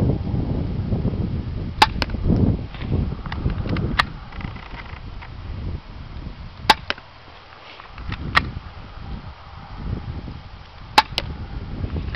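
An SP2022 airsoft pistol fires several sharp, fairly quiet pops at irregular intervals, each a short click-like snap over a low rumble of background noise.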